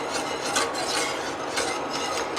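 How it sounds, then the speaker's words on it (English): A utensil stirs milk in a stainless steel pot with a continuous scraping swish along the metal base, rising in soft rhythmic sweeps about once a second, close up and without talk. "I have not stopped stirring the whole time"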